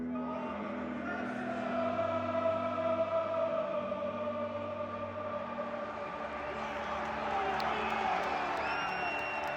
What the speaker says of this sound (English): You can see the crowd are really up for it.